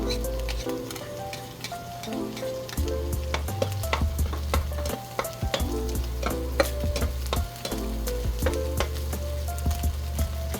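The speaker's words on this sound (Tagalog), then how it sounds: "Next, yung ating onion, lalagay na rin natin." Onion sautés in a pan for spaghetti sauce, giving a steady sizzle with scattered crackles and stirring taps, heard beneath prominent background music with a pulsing bass line.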